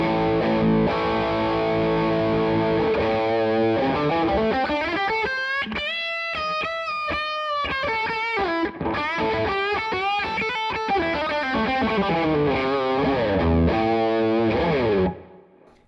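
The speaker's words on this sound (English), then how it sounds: "We got some a little bit more kind of modern high gain." Heavily distorted electric guitar plays chugging riffs and sustained chords with a thick, saturated modern high-gain tone from a pedalboard into a clean amp, loud and alone.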